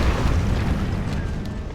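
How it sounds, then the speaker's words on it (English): A cannon blown apart in Monster Hunter World gives a loud, heavy explosive roar that stays thick and rumbling for nearly two seconds. "You just destroyed my cannon!"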